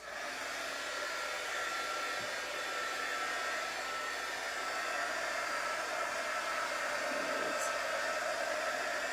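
A hair dryer blows steadily and close for the whole stretch, drying fresh paint on a beach sign, its airy roar unbroken and alone with no voices.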